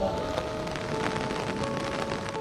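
Heavy rain pours down over flooded northwest Italy, a dense, loud, unbroken hiss of downpour lasting the whole stretch with a faint tonal bed beneath.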